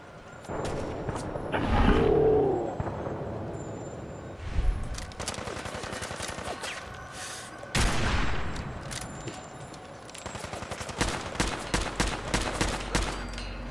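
Rapid bursts of automatic gunfire and single shots in the video game Fallout 4 come in several loud volleys with short gaps and mechanical clatter between them.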